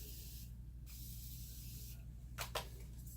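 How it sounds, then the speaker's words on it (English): Two quick hissing bursts from a Morphe spray bottle misting a makeup brush, short and close, each releasing a fine mist against a quiet background. "I'm gonna spray this brush. Just gonna grab my Morphe spray here."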